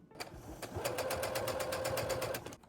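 A sewing machine runs a straight seam through fabric in a quick, steady burst of rhythmic clattering stitches lasting about two seconds, close and clear, with no talking.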